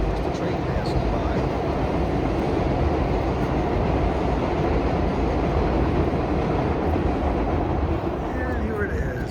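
Close by on a city street, a passing train makes a sustained heavy rumble and wheel clatter, loud and unbroken from start to finish.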